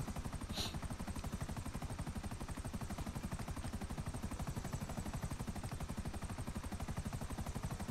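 Rapid, steady rotor chop of a Buzzard attack helicopter in GTA, a dense low thumping pulse running loud and unbroken throughout, with a brief hiss near the start.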